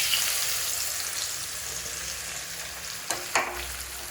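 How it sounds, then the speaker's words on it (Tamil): Amla sizzles steadily in hot oil for an amla pickle, a close, even hiss with a couple of sharp stirring scrapes near the end. "இப்போ இந்த ஆம்லா ஆயில் போட்டுட்டு மிக்ஸ் பண்ணலாம்."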